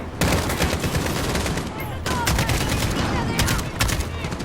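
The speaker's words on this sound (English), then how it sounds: "So just keep shooting people" AK rifle gunfire in the Modern Warfare Highway of Death campaign mission: loud, close volleys of rapid shots crack in dense bursts over a constant battle roar, with a brief pause before firing resumes and voices faintly underneath.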